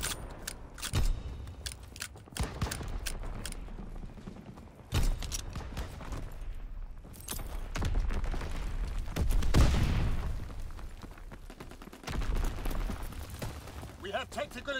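Gunfire bursts in Call of Duty: WWII combat, with repeated sharp shots and heavier blasts scattered across the stretch, while shouted voices and battle noise run underneath.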